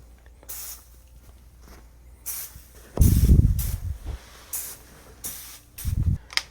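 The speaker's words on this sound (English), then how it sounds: "you can literally spray this whole mattress area with this Bedlam also" Bedlam insecticide is sprayed across a mattress in several short hissing aerosol bursts, with louder rustling and handling noise between sprays.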